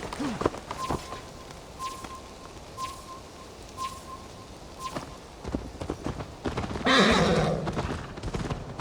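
A horse in the Assassin's Creed Valhalla video game, clip-clopping hooves in a steady rhythm with a whinny near the end, close and clear, with brief talk.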